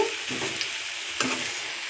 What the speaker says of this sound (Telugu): వీటిని కూడా నూనెలో కొద్దిసేపు మగ్గనివ్వాలి